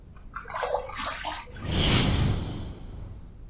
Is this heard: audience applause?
no